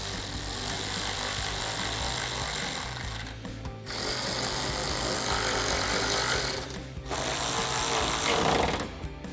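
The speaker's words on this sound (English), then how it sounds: "tighten down those 3 screws." A 10mm socket driving the three mounting screws on a Toyota 4Runner's Morimoto XB Evo LED headlight, a steady close mechanical whirring of a power driver in three long runs broken by two brief pauses.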